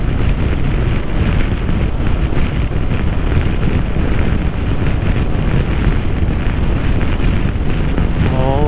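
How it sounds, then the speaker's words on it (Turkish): Steady, loud wind roaring and buffeting against a microphone on a moving 2018 Honda PCX scooter, with a deep low rumble throughout and no talking. "yolda savuruyor bizi rüzgar"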